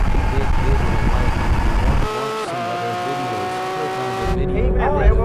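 A Porsche 911 GT3 RS drag races a Lamborghini Aventador SV with loud, sustained engine roar that climbs in pitch through gear changes, heard close with a voice shouting encouragement over it.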